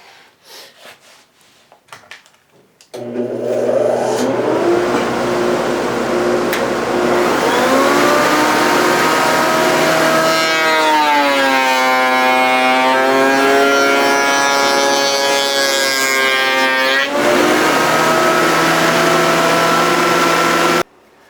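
Router table fitted with a panel-raising cutter machining a raised wooden door panel: the motor spins up and holds a loud sustained whine, with the pitch bending and dropping while the panel is fed through, then winding down.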